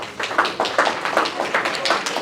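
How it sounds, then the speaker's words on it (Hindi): An audience at a university entrepreneurship session claps for a student's business idea, a brief round of scattered, moderately loud hand claps in a rough rhythm. "अमेजिंग, ताली भी भाई।"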